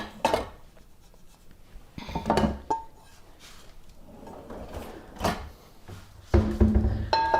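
A single cooking pan is pulled from a kitchen cupboard, giving several separate wooden knocks and metallic clanks with quiet gaps between them and a louder clatter at the end.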